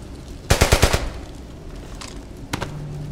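A war-film battle with a rapid machine-gun burst of about six loud shots, followed a moment later by a single sharp gunshot, with no talk.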